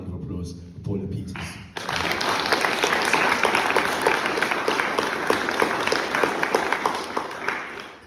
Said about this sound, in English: So please give a round of applause for Paula Peters